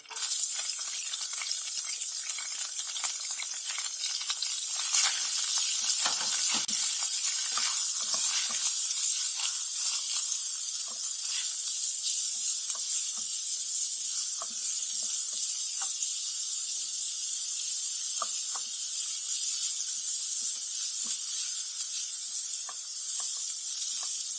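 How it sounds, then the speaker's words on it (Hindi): Chopped onion frying in ghee in a pan, a loud continuous close sizzle and hiss holding steady throughout with faint scattered crackles. "अब मैं इसमें कटा हुआ प्याज डाल रही हूँ।"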